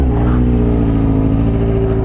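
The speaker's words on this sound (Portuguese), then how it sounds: "Já vou deixar minha moto pronta pra fuga." A tuned Yamaha XJ6 motorcycle engine idles and revs loudly up close on a forest trail, a steady throbbing drone with a slight rise in pitch, with no talking.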